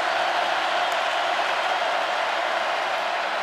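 Steady, broad roar of a large crowd filling the stadium at an Auburn vs LSU college football game, continuous and fairly loud with no single voice standing out.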